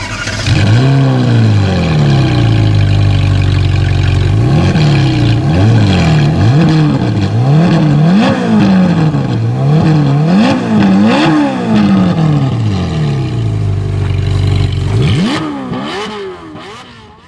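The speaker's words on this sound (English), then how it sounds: "let's start it up and give it a few revs" A 2013-2014 Ferrari 458 Spider with a 4.5-liter V8 starts up close by, then revs repeatedly in sharp rising and falling bursts over a loud idle before the engine cuts off.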